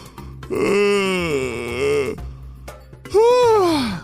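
A voice imitates a long drawn-out yawn, stretching into a groaning sigh, then a second shorter yawning moan after a brief pause.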